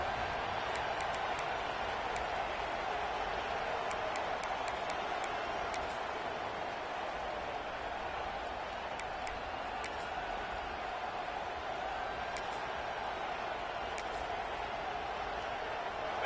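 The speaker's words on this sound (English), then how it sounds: "This crowd ready to make its presence known." A football stadium crowd at a Cowboys game sends up a steady, distant roar, a faint wash of massed voices holding level throughout with no distinct cheers breaking out.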